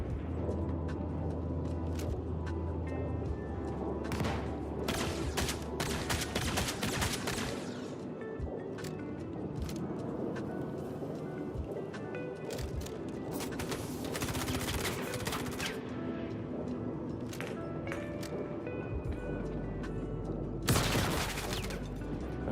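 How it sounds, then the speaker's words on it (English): Gunfire and explosions in the video game Star Citizen: rapid bursts of automatic fire, sharp shots and a heavy grenade blast near the end, loud and continuous throughout. "Threw a grenade at us."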